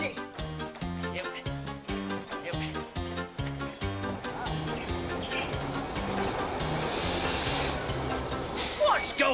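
A train rolls on the rails with a rhythmic clickety-clack of wheels that gives way to a rising squeal toward the end, loud and close.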